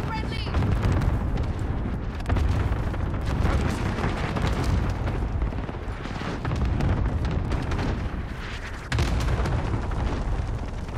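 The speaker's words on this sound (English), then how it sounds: "Enemy cluster strike incoming." An enemy cluster strike hits in a shooter game, with a rolling series of loud, close explosions and booms in several waves across the stretch, mixed with gunfire.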